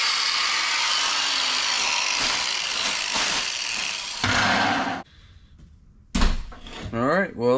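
A repaired Ryobi grinder with a fixed switch runs steadily and loudly for about five seconds, cuts out, then briefly spins up again with a rising and falling whine near the end.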